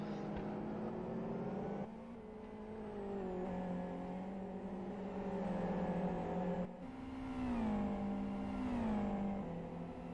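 Race car engines droning and revving in a sim racing game at Blackwood GP, a steady tonal whine that shifts pitch with gear changes and brief drops, without any talk.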